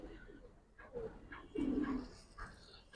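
Giribaz pigeons coo at close range, with a few low, throaty coos rising over a soft background of rustling and shuffling.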